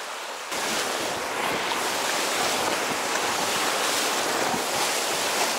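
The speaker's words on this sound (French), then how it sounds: "Alors on est sur une grosse rivière, à pas mal de vitesse," The big Seti River in Nepal rushes beneath a moving raft, a loud, steady broadband roar of fast water with some wind buffeting, starting abruptly and holding constant.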